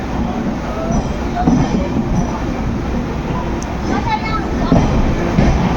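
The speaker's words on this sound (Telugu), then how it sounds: "ఇది సిమాల్గురి ఒక జంక్షన్ రైల్వే స్టేషను" Rumbling train noise at Simalguri junction railway station, Northeast Frontier Railway, with rolling wheels and metallic clatter, while a person talks over the steady din.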